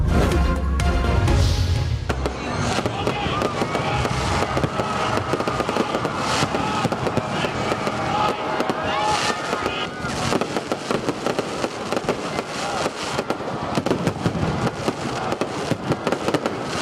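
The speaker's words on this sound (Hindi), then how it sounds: "पेशावर में भी यौम आज़ादी पर शानदार आतिशबाजी।" Independence Day fireworks over a sports complex in Peshawar: a dense, continuous crackle of bursts and pops, loud and close, with a heavy boom at the start and crowd noise beneath.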